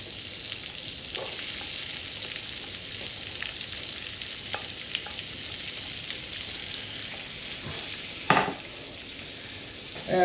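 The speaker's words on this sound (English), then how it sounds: "Now we're going to add our onions. I use a nice sweet onion." Sweet onions sizzle steadily in a hot pan, a soft continuous frying crackle with a few clicks and scrapes of stirring, then a brief louder clatter near the end.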